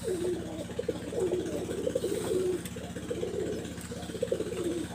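Blue-tailed Nildumba pigeons coo in soft repeated phrases close by, with a steady low engine-like hum running beneath them.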